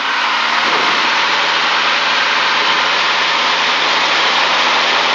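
A Super Cub airplane's engine roars steadily at full takeoff power on a grass field, a loud continuous drone heard from inside the cockpit with no break.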